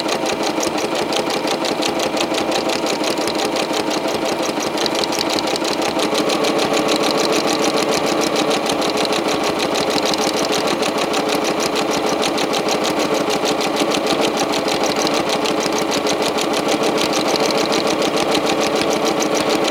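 Sewing machine running continuously during free motion quilting, a fast, even mechanical whir and needle chatter that stays loud and close without pause.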